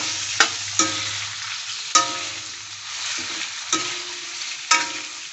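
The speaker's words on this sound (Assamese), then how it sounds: "এই পিঁয়াজখিনি ৰঙচুৱা হোৱাৰ পিছতে মই ইয়াতে মাংসখিনি দি দিলোঁ" Pork being fried with browned onions in a pan for an Assamese-style pork curry, a steady close sizzle with several sharp stirring scrapes and clacks spaced through it, no talking.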